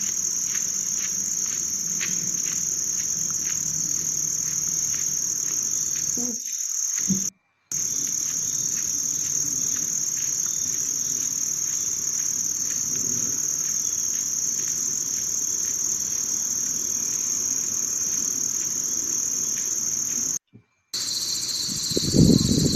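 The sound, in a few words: crickets chirping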